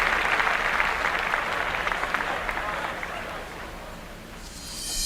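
Applause on a podcast, a steady wash of clapping that holds for several seconds, thins slightly toward the end and then swells again briefly.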